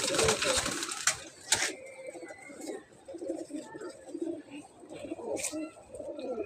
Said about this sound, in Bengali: এই যে একটা কবুতর দেখাচ্ছি